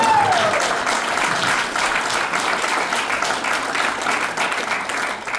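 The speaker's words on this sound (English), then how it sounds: "I wasn't sure if that was going to get an applause or not" A stand-up comedy audience breaks into applause, a full, steady clapping that holds for several seconds.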